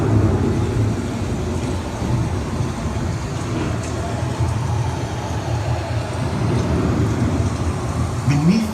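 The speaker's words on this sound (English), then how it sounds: "The approaching storm may seem violent and destructive to us" A storm sound effect on the EPCOT Living with The Land boat ride rumbles and roars, a loud, dense, continuous wash of low rain and thunder-like noise lasting the whole span.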